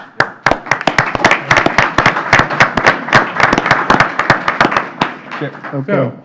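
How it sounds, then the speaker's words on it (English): A round of applause in a Pasco Board of County Commissioners meeting room: a loud run of sharp, distinct hand claps from a small group for about five seconds, tapering off as a voice comes in at the end. "we had to give you a round of applause."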